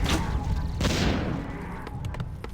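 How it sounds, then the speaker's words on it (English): Mortar teams firing in Warcraft III, giving a few booming, muffled artillery-like blasts that sit among steady game noise and battle clutter. "And now we got mortars shooting away as all these trees were cleared."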